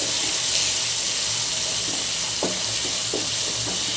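Potato pieces fry in hot oil with turmeric and salt, giving a constant close sizzle with a few soft knocks of stirring scattered through it.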